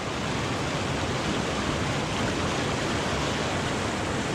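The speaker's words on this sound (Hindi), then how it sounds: "ये पार्वती रिवर है जो कि एकदम वाइट कलर की है" Parvati river in Kasol, fed by melting mountain snow, rushing steadily as a dense, continuous broadband roar of flowing water, close and loud with no break.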